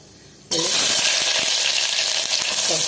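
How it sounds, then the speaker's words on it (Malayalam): Fenugreek seeds drop into hot coconut oil in a pressure cooker for Kerala kadala curry, bursting into a sudden loud, continuous sizzle right after a quiet start. "ഇതിലേക്ക് ഇനി ഉലുവായിട്ട് കൊടുക്കുക ശരിയായിട്ടുണ്ട് ഉലുവ ഒന്ന് മുരിഞ്ഞു വന്നിട്ടുണ്ട്"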